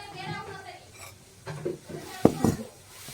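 A kadai (wok) is set down on the stove during cooking of a vegetarian jackfruit curry, giving one sharp metallic clunk and a softer knock after it, against quiet kitchen background and faint speech.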